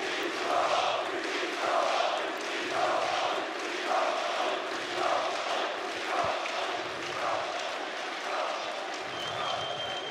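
A large arena crowd at the IEM Katowice 2016 CS:GO grand final chants in a steady rhythmic pattern, loud and reverberant, with a commentator talking over it.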